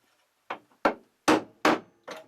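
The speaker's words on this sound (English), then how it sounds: "I can seat that on the inside of the bolt and tap it to" A metal punch set inside a bolt on a boat's chain plate is tapped with a hammer to loosen it, five sharp separate knocks in quick succession, close and clear with nothing else heard.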